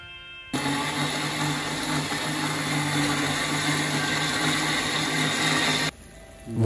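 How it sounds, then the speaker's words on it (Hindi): An electric grinder whirs steadily as it blends onion, garlic and ginger into a paste, a loud continuous motor drone with a harmonic hum that starts abruptly and cuts off near the end. "वो ग्राइंड हो रहा है"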